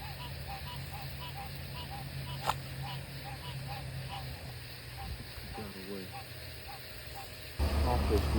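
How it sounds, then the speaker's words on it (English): A chorus of frogs calls in the wild, with steady overlapping croaks repeating in a continuous rhythm at moderate distance. A louder burst of noise near the end briefly covers the calls. "What you're hearing right now is a symphony of frogs."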